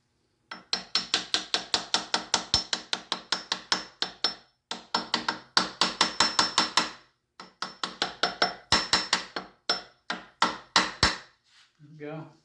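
Rapid series of sharp, close hammer taps seating a connecting rod cap on a Triumph TR6 engine, fired in quick rhythmic bursts with short pauses between runs, then a few softer closing taps.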